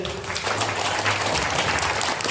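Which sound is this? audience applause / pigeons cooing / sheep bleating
audience applause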